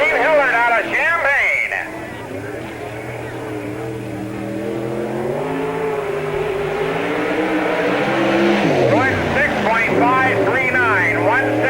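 Late model race cars run laps at Spoon River Speedway during the Summer Nationals, their engines roaring and rising in pitch as they rev and sweep past, mostly under an announcer's steady commentary.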